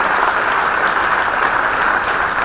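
Audience applause at a live interview event with actors, a dense continuous clapping from a large crowd, loud and steady throughout with no talk over it.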